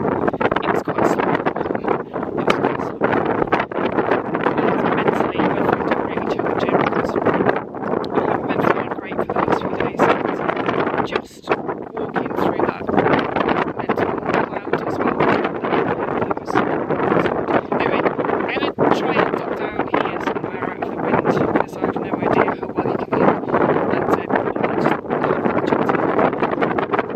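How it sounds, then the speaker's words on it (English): Strong, gusting wind roars across an exposed hillside and buffets the microphone without pause, loud and close throughout. "I just ducked down here out of the wind"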